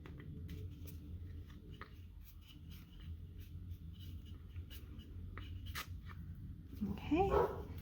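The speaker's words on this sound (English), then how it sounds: "if you can hear my dog barking in the background" A dog barks faintly in the background behind soft scratching and tapping, with a louder yelp near the end.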